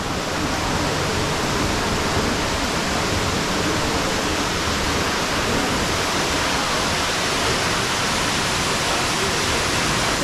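Songlong Rock waterfall in Nantou's Shanlinxi forest, a dense, steady roar of falling water filling the whole scene at close range, unbroken and without voices.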